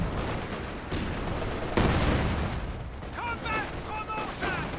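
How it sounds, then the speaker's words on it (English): Artillery barrage shells landing in a Company of Heroes 2 match: a dense rumbling spread of blasts and mechanical clatter, with one heavier impact near the middle and chirpy game effects toward the end. "I think there's only one more shell coming through for that barrage though."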